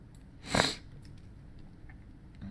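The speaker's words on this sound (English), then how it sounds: "Sorry for all the sniffles again. Allergies." A single short sniff, close and fairly loud, followed by quiet room noise.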